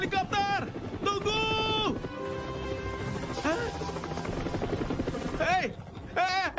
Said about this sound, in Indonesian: Hei, tunggu helikopter!